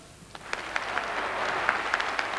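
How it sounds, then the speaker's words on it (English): Applause at a Labour Party conference speech swells from scattered claps into a warm, steady patter, moderately loud and fairly distant. "The applause was warm enough, but restrained too."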